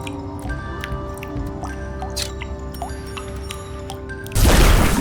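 Water gathering in the Wytchwood video game: a run of small drips and squishy liquid plips under a sustained musical drone, ending in a louder rushing splash.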